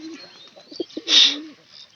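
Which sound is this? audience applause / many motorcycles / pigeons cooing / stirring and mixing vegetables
pigeons cooing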